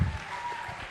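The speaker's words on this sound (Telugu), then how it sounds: "అందరూ ఆయనకి క్లాప్స్ కొట్టండి ఫస్ట్." Audience applause at a film success meet, a brief dense wash of clapping that is strongest at the very start and then holds steady.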